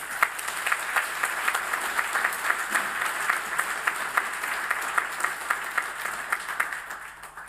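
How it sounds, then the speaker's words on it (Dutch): An audience at an academic farewell lecture applauds the professor taking the podium, steady rhythmic clapping with distinct individual claps standing out, holding throughout before easing off at the very end. "Applaus graag."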